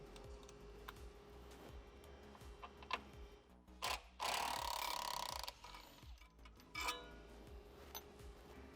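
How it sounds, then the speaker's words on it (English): A Torx Plus 55 bit backs Torx bolts out of black rock slider brackets on a Rivian R1T, making faint ratcheting clicks with one louder grinding burst midway and a shorter one after, with no talking. "take the supplied Torx Plus 55 bit and remove both Torx bolts at these black"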